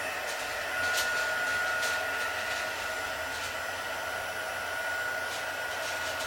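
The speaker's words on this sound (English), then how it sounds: "I'm going to take my heat gun and I'm going to heat this ink onto the aluminum foil" A heat gun blows continuously while setting ink onto aluminium foil, a steady whooshing hum held slightly away from the microphone at moderate loudness throughout.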